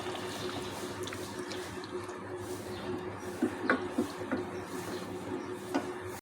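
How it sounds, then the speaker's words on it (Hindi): Meat being stirred together with yogurt in a cooking pot, giving soft wet squelches and gentle liquid churning over a steady background hum, with a few scraping stirs toward the end. "दही को मिक्स करूँगी इसको"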